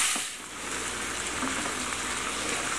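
String beans sizzle steadily in a hot pan with soy sauce, a dense, even crackle and hiss lasting a few seconds without talk.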